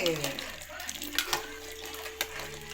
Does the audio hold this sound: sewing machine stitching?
no